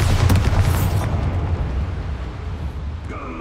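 In the Hogwarts Legacy video game, a Bombarda spell goes off as a loud, close explosive boom that rumbles and then fades into a decaying roar.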